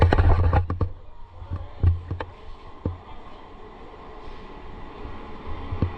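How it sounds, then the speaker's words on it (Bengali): A Howrah–Medinipur local train pulls into a station with a low rumble broken by clanking and thumping wheel knocks, loudest at the start and then settling to a steadier rolling drone. "ওই যে ট্রেন ঢুকে গেছে"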